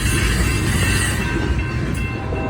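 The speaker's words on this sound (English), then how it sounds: "CSX Q567, a daily mixed manifest train out of Oak Island, New Jersey, to Walbridge, Ohio" CSX Q567, a mixed manifest freight train, rolls past close by in Fostoria, Ohio, a dense, loud, unbroken roar of wheels and cars with no voices.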